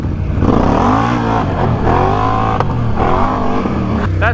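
A Can-Am Outlander ATV engine revs hard while riding, close and loud, its pitch climbing and dropping in repeated surges with a brief knock partway through.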